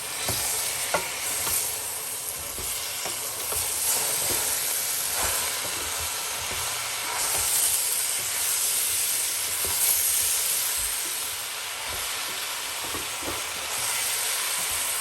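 Aubergine curry with mixed herbs being stirred in a sizzling pan, a continuous close hiss of frying with repeated scraping and clinking of the spoon against the pan, no talking.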